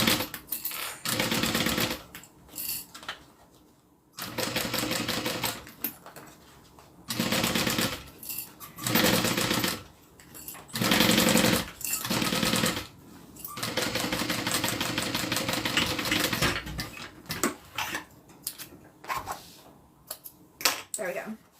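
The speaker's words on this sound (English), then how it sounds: "let's sew this inside lining on" A sewing machine stitches the inside lining of a wallet in loud, rapid runs that start and stop repeatedly, with short pauses between bursts and someone talking in the gaps.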